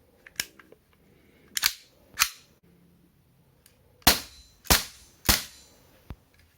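Baikal MP 659K, a Kalashnikov-made airsoft replica of the Makarov PM pistol, fires seven sharp, snappy shots at an irregular pace, close and crisp with short decays and quiet gaps between.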